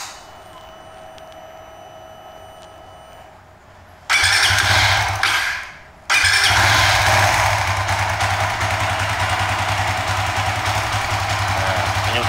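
Two-stroke kart engine fitted with an AIM Mychron 5s data logger fires up after a quiet stretch, cuts out briefly, then restarts and holds a loud, steady buzzing idle close by.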